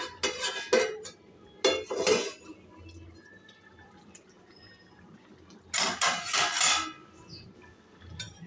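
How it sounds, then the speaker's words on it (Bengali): A metal lid lifted off a pot of Afghani chicken, heard as a few sharp clanks and scrapes of cookware in short bursts separated by quieter gaps with faint bubbling. "এটা আমি ঢাকাটা খুলে দেখছি।"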